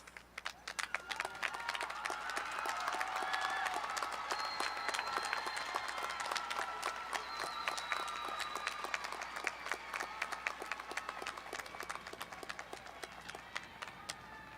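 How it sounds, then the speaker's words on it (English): A graduation crowd applauds at a high school ceremony, steady sustained clapping from many hands, moderately distant and filling the whole stretch without a break. "give them a round of applause"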